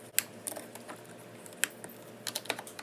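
The negative battery terminal comes off a Nissan Z31 during a clutch job. Sparse light metallic clicks and taps ring out in a quiet space, close by but faint.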